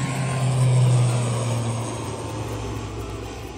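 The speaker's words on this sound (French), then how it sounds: "Les ATR sont des turbopropulseurs, donc ce qu'on appelle les avions à hélice avec une turbine" An ATR 42/72-600 turboprop from Air Tahiti's fleet in French Polynesia, its turbine engine and propeller giving a steady, loud, broadband roar with a low droning hum that eases slightly toward the end.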